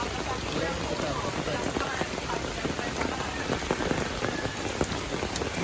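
Heavy rain pours down in Tanay, Rizal, a dense, continuous patter of drops hitting nearby surfaces at a steady loud level with scattered sharper splats throughout.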